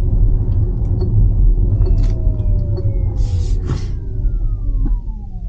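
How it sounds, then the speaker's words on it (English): Steady low road rumble and faint whine inside a 2022 Lucid Air electric sedan while driving in smooth mode, continuous and fairly loud with gliding tones and brief hissy bursts, no talk. "It's the EV noise."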